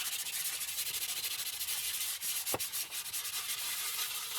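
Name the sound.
hand rubbing polish onto a metal topbox in swirls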